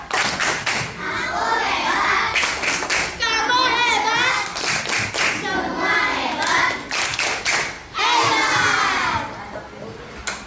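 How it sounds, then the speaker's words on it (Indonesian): A class of children claps a rhythmic chant at school, sharp synchronized claps in bursts alternating with their shouted, sing-song voices, all loud and close. "Tepuk hebat"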